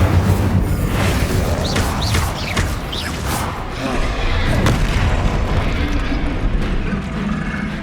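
Casting the Incendio fire spell in the Hogwarts Legacy video game brings a dense, continuous roar of booming blasts and crackling impacts amid a loud combat mix, with no quiet gaps.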